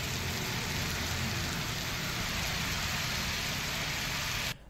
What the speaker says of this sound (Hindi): भारी बारिश दिल्ली एनसीआर में हो रही है